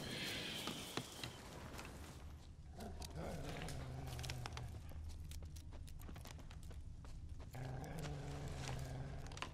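Wolves growling in The Witcher 3: Wild Hunt, with low snarls and rough animal calls, several growls mixed with game noise and music.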